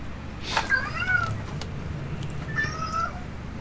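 Two distinct cat meows, bright and clear, spaced a couple of seconds apart and used as an alert tone over a low background hiss.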